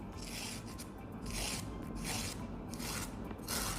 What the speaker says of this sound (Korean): 이 손톱을 마지막으로 라운드로 예쁘게 다듬어 줄 거예요. 그래서 화일을 이용해서